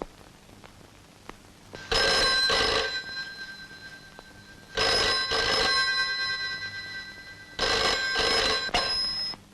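A telephone bell rings in three long bursts separated by pauses, loud and close, with no voices.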